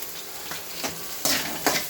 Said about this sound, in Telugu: కొంచెం ఫ్రై కానివ్వాలి ఫ్రెండ్స్.